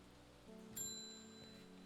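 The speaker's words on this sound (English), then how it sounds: "Does it ever stop raining in Undermere?" Steady soft rain in the Strange Horticulture video game, a continuous quiet patter alongside low ambient music and a brief bright chime, with no talking.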